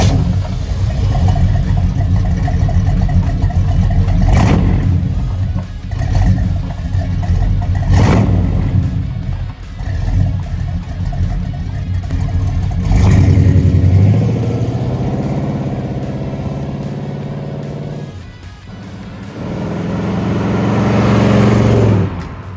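A 1964 Pontiac GTO convertible engine revs and accelerates hard in repeated surges, a loud, deep rumble close by with rising and falling pitch over several pulls and no talk.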